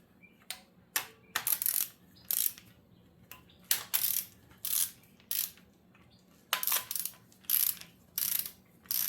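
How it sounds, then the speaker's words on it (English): Cylinder head bolts being run down on a 351W engine, giving a dozen or so short bursts of quick metallic clicking and ratcheting, separated by brief pauses, close and fairly loud over a faint low hum. "here I am just setting the bolts down first"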